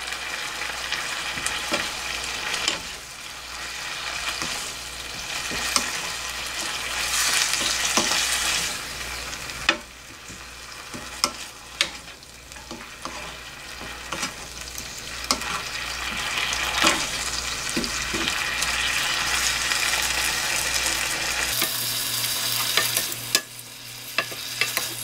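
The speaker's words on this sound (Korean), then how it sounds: "아까 고기 볶을 때 볶았어야 됐는데 지금이라도 넣을게요." Onion and tofu stir-frying in a pan for mapo tofu, a steady close sizzle with scraping stir strokes and clinks throughout, shifting in tone near the end; no talk.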